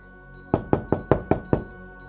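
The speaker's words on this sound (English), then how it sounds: "Then there was another knock, knock, knock at the door." Six firm knocks on a wooden door in quick, even succession, close and loud, with nothing else heard.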